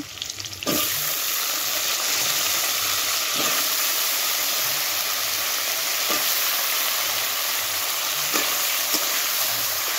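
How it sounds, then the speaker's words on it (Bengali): Cut potatoes fry in a pan with onions, giving a loud, continuous close sizzle with a sudden burst as they hit the oil and occasional scraping stirs, no talking. "আলুগুলো দিয়ে দিচ্ছি"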